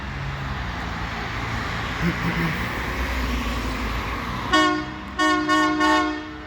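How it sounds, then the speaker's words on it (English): CPKC holiday train passing at a level crossing on Adelaide Street in London, Ontario, with rumbling rail noise, then a loud nearby horn salute in several bursts over the final two seconds. "We got the horn salute on 2246."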